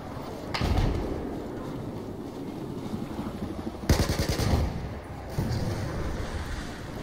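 Dense rumbling action noise from Battlefield 4 with two sharp bursts of gunfire, one early and one louder midway, followed by a further rattling burst.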